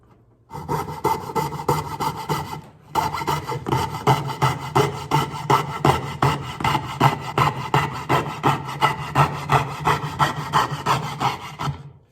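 A hand saw makes delicate curved cuts in wood with a brisk, even back-and-forth rasp of close strokes. The strokes break off briefly early on, then carry on rhythmically to the end with no talking.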